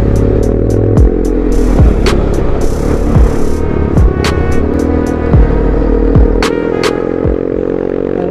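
A Yamaha Mio i 125 scooter with a 135cc upgrade and a replaced fuel injector runs up close and loud, its engine holding a steady droning hum broken by repeated sharp ticks and brief dips in revs.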